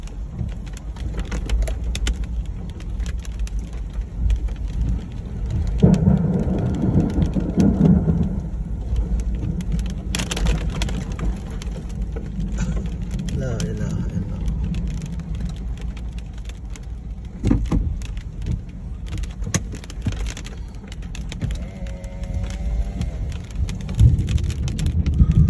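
Heavy downpour during an evening storm in Al-Jumum, with steady dense rain noise throughout and low thunder rumbles swelling in bursts, close and loud, with no talking.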